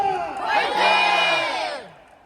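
A packed baseball stadium crowd at a Hanwha Eagles home game in Daejeon shouts a drawn-out unison fighting chant, a loud massed roar that swells and then fades over about two seconds.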